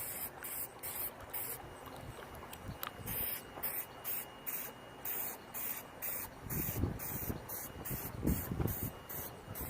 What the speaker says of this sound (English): now we're going to start spray painting these frames